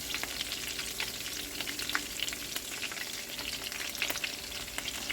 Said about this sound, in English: The meatballs, they should be ready to turn over.